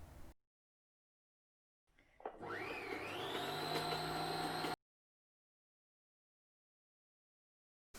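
A Bernina 1008 sewing machine winding a bobbin, with a motor whine that rises in pitch as it spins up and then holds steady for a few seconds before stopping abruptly, surrounded by near silence.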